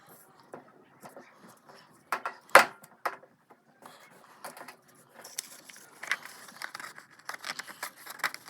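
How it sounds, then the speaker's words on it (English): Scissors snip through a small strip of paper: a few sharp crisp cuts near the middle, then scattered light clicks and paper rustles, close and fairly quiet. "I'm just going to cut one more little strip to see if that covers it."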